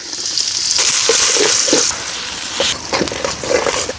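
Onion frying in soybean oil in a pan on a stove, a loud, steady broadband sizzle with scattered stirring scrapes and small spatters throughout.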